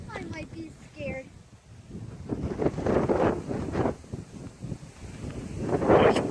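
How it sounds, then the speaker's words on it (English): Wind blowing outdoors at a forest trailhead beside a freeway, arriving in broad rumbling gusts that rise and fall and swell loudest near the end, with a voice and faint dog sounds in the gaps. "Oh, it's windy."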